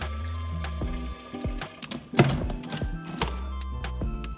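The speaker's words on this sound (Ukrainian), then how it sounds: "Переливаємо сік у великі бутлі" Homemade apple juice poured into large bottles for cider, a faint trickling and gurgling with a few sloshing splashes and clinks midway, recorded close with no talking.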